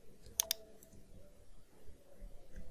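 Two quick, sharp computer mouse clicks in close succession, faint and near, followed by a quiet room hum.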